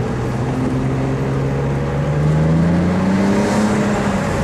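Car engine with a decatted exhaust, a loud continuous droning roar that rises gradually in pitch as it revs, heard close with no speech.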